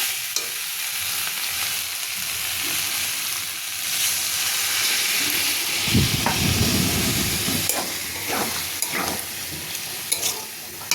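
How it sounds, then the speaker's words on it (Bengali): Cauliflower and potato curry fries in a pan with a steady hiss, and a burst of louder, crackling sizzle erupts partway through as water hits the hot pan, followed by scattered spitting and scraping. "এবারে আমি এর মধ্যে জল ঢেলে দেবো বন্ধুরা"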